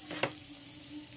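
Sliced onions fry lightly in a pan for a homemade chicken stew, giving a brief, quiet sizzle with a few soft stirring clicks.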